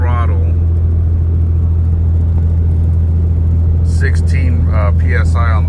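A Ram 3500 truck engine towing 19,000 pounds uphill at about 1600 RPM with 400,000 miles on it, a steady loud low rumble and drone throughout with someone talking over it near the end.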